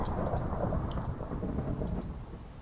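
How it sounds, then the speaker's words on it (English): Thunder in a Minecraft Feed The Beast modpack game rolls on as a steady, loud, low rumble with rain hissing over it for several seconds, with no speech. "We're getting away from this thunder."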